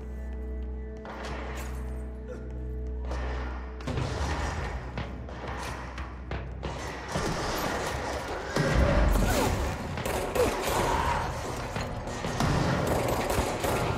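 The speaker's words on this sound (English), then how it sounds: "I hear gunfire." Bursts of gunfire and heavy booms from the shooter video game Control, with rapid overlapping shots and thuds building into a dense, loud barrage that continues throughout.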